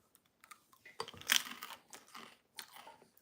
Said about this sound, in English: You guys heard the crunch, right?